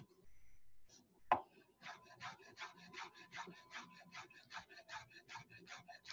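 Knife slicing herbs into chiffonade on a cutting board: a steady run of rapid, evenly spaced soft chops, close and moderately quiet, after one sharp knock.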